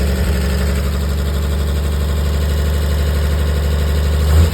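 A Tri Five car engine that sat for thirty-seven years, running off fuel from a jug with a clip on the coil, idles steadily and loudly with a deep low rumble and a brief swell near the end.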